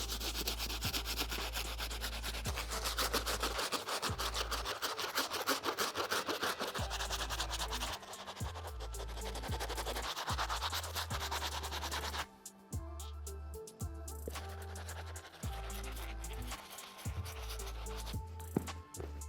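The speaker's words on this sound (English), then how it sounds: "we gotta jump to the stiff bristle brush just to get a deeper clean" A stiff bristle brush scrubs the outsole of a dirty Air Jordan 1 Travis Scott Medium Olive sneaker, steady close rasping strokes repeating in quick rhythm, pausing briefly before the rubbing resumes.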